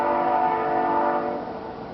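A passing train sounds a sustained horn blast near a rural worksite, the steady tonal blare loud throughout and fading slightly toward the end.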